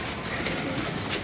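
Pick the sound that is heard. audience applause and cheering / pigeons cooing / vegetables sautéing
pigeons cooing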